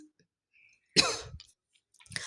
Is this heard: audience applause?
no